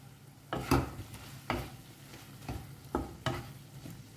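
Squid chilli cooks in a pan over a medium flame with a soft background sizzle, broken by about five spaced scraping stirs of a utensil.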